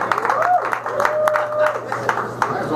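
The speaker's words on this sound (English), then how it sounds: "let's give him a round of applause" An audience at a morning gathering gives a speaker a scattered round of applause, individual claps popping unevenly over low crowd murmur and a faint voice.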